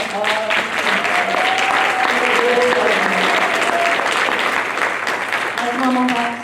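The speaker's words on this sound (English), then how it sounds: "how about a round of applause for all" Audience at a high school signing day for student athletes breaks into sustained applause, dense clapping throughout with cheering voices mixed in, loud and close.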